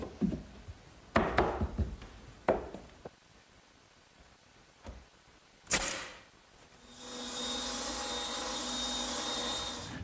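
A table saw rips a wooden board to width: scattered knocks and thumps of the board being handled, then the saw's high, steady whine cutting continuously through the last few seconds, close and clear.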